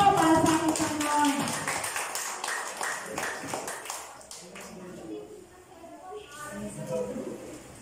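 Congregation clapping at a church worship service, a steady patter of many hands through most of the stretch, with a voice speaking over it and fading somewhat toward the end.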